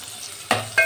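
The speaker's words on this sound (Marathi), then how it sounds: "व्यवस्थित चार ते पाच मिनटं परतून घेऊया हे सर्व आपल्याला लो फ्लेमवर परतून घ्यायचं आहे" Onion sautéing over a low flame in a pan: a soft, low sizzle with two sharp scraping stirs of a spatula against the pan, close up and without talk.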